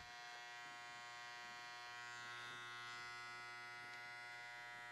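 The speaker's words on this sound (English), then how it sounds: "we're just going to work our way all the way around in an upward shaving motion" An electric razor buzzes steadily during a barber haircut, a close, continuous motor whine with faint fluctuations as it shaves hair upward, no one talking.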